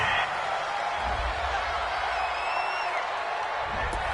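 Home football crowd in a stadium reacts to a penalty flag on third down with a sustained roar of murmuring and scattered cheers, a distant, even wash of noise.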